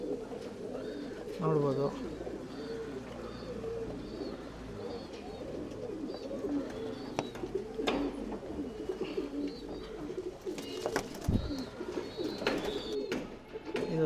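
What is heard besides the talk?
tumbler pigeons cooing in a loft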